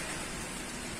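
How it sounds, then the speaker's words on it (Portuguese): Rain falling on a street in Paraná, a soft, even wash of steady hiss with no distinct drops or voices, fairly faint. "Chuva de novo no Paraná"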